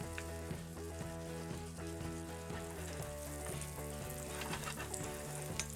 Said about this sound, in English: using the wooden spoon, give that a good scrape on the bottom